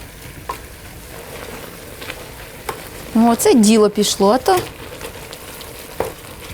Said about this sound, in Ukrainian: щось воно там собі шкварчить, шкварчить